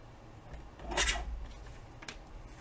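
Paper for a tag booklet is cut about half an inch shorter, a single brief rasping slice near the middle, then a faint second scrape, close and quiet.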